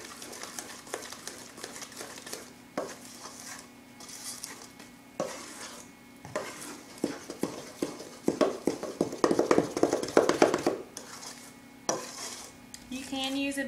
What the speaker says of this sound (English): So you want to make sure that you stir it really good.